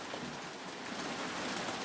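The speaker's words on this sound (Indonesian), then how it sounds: "ini di lokasi transmigrasi sedang diguyur hujan" Steady rain pours down at the UPT Sepunggur transmigration settlement in Bulungan, North Kalimantan, a dense, even hiss of drops with no voices.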